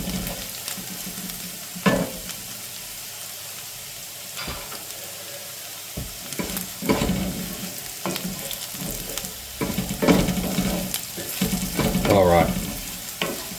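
Dill seeds fry in a pan alongside mushrooms, producing a low, uneven sizzle with scraping and stirring bursts from a utensil, and a brief spoken word.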